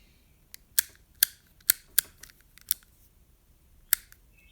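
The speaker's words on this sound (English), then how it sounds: "toggle switch, it's working. Well, it's clicking." Crisp, dry clicks from the toggle switch of an Oster Classic 76 hair clipper, a run of about eight close, sharp snaps spaced irregularly with no talking.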